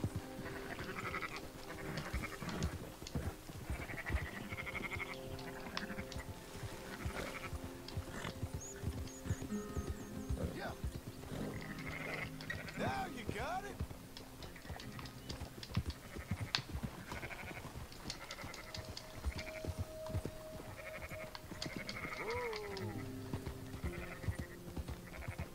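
Sheep bleating in Red Dead Redemption 2, several animals calling repeatedly against a soft in-game backdrop of hooves and movement, faint and fairly distant, with no talking.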